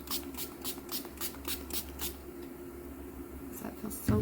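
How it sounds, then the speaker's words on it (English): Short puffs of setting spray misted during makeup, a quick run of soft hissy bursts close by followed by a quieter stretch. "And then some setting spray."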